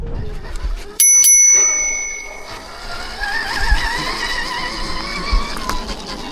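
A bicycle-style bell rings sharply on a Stark Varg electric dirt bike, loud and close, and its tone rings out over outdoor noise from a sand motocross track. Low wind and riding rumble continue after the ring fades.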